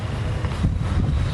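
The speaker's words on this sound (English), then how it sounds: "It's starting to get windy." Gusty wind buffets outdoors in a backyard pumpkin patch, a low rushing roar with microphone buffeting, steady and fairly loud.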